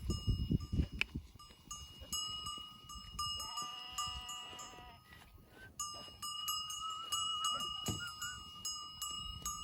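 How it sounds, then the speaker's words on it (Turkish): A herd of goats moves close by with clanking bells and scattered bleats, while a dog and other farm sounds mix in on an outdoor shepherding scene. "Keçilerimizi getirelim."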